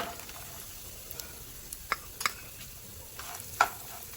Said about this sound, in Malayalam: അപ്പോൾ നമുക്ക് ഈ തേങ്ങാക്കൊത്തൊന്ന് ചൂടാക്കി